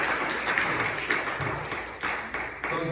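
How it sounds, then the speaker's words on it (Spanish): A church congregation applauding during a sermon, a dense steady wash of many hands clapping at moderate level through the whole stretch, with a few louder bursts and no talk over it. "Denle un aplauso al Señor, hermano."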